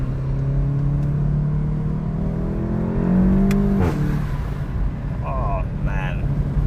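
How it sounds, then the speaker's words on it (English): A 2016 VW Golf GTI Clubsport accelerates with a loud, rising exhaust note heard from inside the car, then shifts and settles. A man exclaims over it. "Oh, that exhaust is so loud."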